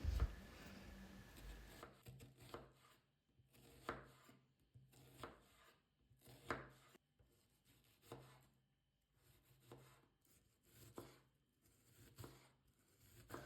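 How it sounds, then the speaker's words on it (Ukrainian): A knife finely chops an onion steadily on a board, quick rhythmic cuts in bursts with brief pauses, close and clear with no talking. "я беру одну цибулину та нарізаю дрібненько"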